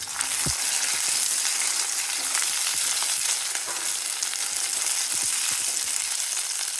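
Onion, tomato and garlic sauté in a hot pan, giving a loud, dense, unbroken sizzling hiss close by with scattered soft clicks and scrapes, and no voices.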